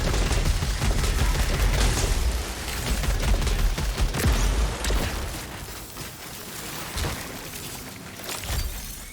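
Rapid gunfire against turrets in Returnal: loud, dense bursts of shots and shattering impacts, thinning toward the end into scattered heavy hits, with no voices.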